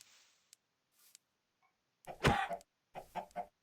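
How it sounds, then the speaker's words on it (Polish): A chicken in a Minecraft-style PvP server game clucking in short bursts, two quick clusters of sharp clucks after a few faint ticks and near-silence. "nie mogę trafić tego kurczaka"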